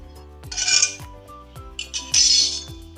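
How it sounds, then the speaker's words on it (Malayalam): Steamed puttu, a Kerala rice dish, is dropped onto a plate in two bright clattering impacts, each with a metallic ring and short clinks, close and loud with no talking. "നമുക്ക് ഈ പുട്ട് പ്ലേറ്റിലേക്ക് ഇട്ട് കൊടുക്കാം കേട്ടോ."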